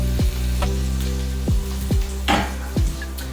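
An egg fries in a pan with turmeric and pepper, a close, loud sizzle under repeated low thumping knocks, roughly every half second.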